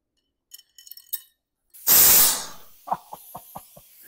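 A small homemade air cannon fires a screw: a few light clicks and handling taps, then one loud sharp hissing blast of released air, followed by several small rattling clinks as the screw lands and bounces.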